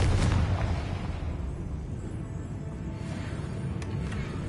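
A Confringo blasting spell explodes in Hogwarts Legacy, a loud, deep boom right at the start that rolls off into a long rumbling decay with faint crackles trailing behind.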